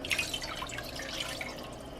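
Two cups of water pour into a cooking pan at a home stove, a steady close splashing and trickling with bright droplet sounds throughout.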